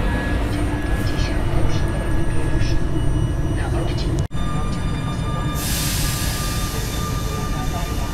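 The Kujawiak passenger train pulling out of Warszawa Wschodnia station, a loud continuous rumble with wheel and motor tones, a brief dropout midway, then brighter rolling noise, with someone talking over it.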